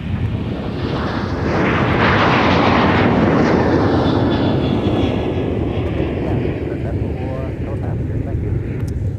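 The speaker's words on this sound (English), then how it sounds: "That departure was Sun Country 395 headed out to San Francisco" Sun Country airliner departing MSP airport, a loud, sustained jet engine roar that swells and slowly shifts as the plane heads out, heard from a distance outdoors.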